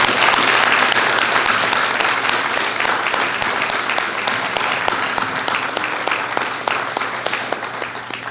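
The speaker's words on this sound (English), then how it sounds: "So let's clap for you too, okay?" Applause at a commencement ceremony for the class of 2023, a crowd clapping steadily with sharp individual claps standing out near the front, gradually thinning and softening over several seconds.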